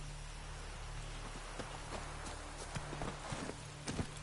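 Hooves of Roach, the horse in The Witcher 3, clip-clop in a fast, irregular run over a soft, rain-like hiss, faint and a little distant, with no talking.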